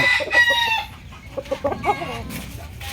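Chickens and a rooster in a backyard in Tanza, Cavite, near and loud: a rooster crows at the start, followed by a run of short, irregular clucks from several birds close by, with no talk.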